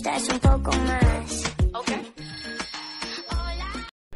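A viral ringtone plays loudly as a catchy musical tune with a repeating melody and sung vocals, followed by sharp beats, before cutting off abruptly near the end.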